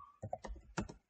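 Someone types code on a computer keyboard, giving a quick cluster of about five faint, close keystrokes within a second, with no voices.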